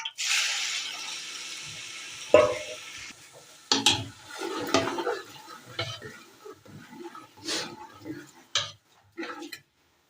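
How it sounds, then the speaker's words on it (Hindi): Onions drop into hot ghee in a pan for a chicken curry, setting off a loud hiss that fades after a few seconds, followed by scattered clatters and stirring knocks. "तो ये हमारा घी जो है ना गर्म हो चुका है। इसमें हम अभी प्याज ऐड करते हैं।"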